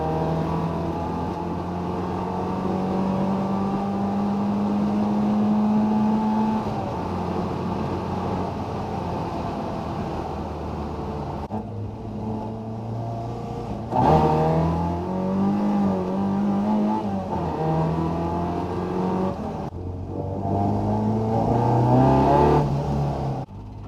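A Mk2 Ford Escort drives through traffic, its engine droning loudly and steadily from inside the car, with tone rising and falling as it revs, shifts gears and accelerates, and no voices.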